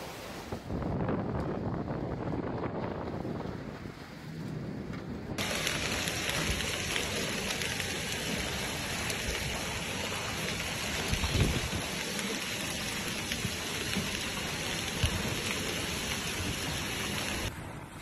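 Heavy rain from a Texas storm pours down steadily with gusty wind buffeting the microphone, a dense continuous roar throughout, and a low rumble of thunder rolling in midway.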